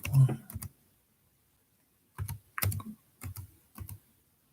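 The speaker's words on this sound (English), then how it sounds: "Here, I'll type it in." Keystrokes on a computer keyboard while working from home come in several short bursts of typing separated by pauses, close and fairly clear, with no talk.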